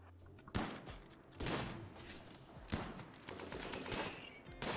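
Faint game gunfire from RimWorld: several distinct volleys of shots, a few seconds apart, over a steady low background, with no voices.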